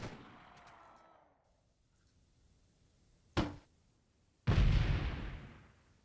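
Gunfire in the video game DF2: two sharp, loud shots, the second followed by a longer booming tail, with a fading rumble at the start and quiet between.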